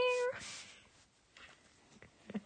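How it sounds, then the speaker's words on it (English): A cat enters and meows several times, faint and brief, with soft shuffling noises in a quiet room. "Now you're about to hear a cat come in on the live stream."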